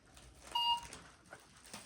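A toy cash register scanner beeps once while scanning a toy balloon during a pretend market shopping game, a short electronic tone standing out against quiet background noise.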